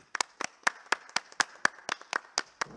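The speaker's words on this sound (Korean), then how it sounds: "큰 박수로 환영해 주시기 바랍니다." A small, sparse round of applause welcomes a presenter at an academic conference, with about a dozen distinct claps spaced unevenly over a few seconds, fairly close and with no talk over them.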